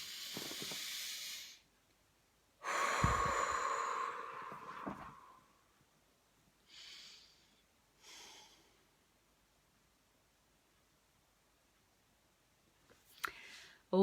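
Slow, deep breathing during a guided healing meditation: a long hissing exhale near the start, a louder extended breath in the middle, then softer breaths separated by quiet pauses.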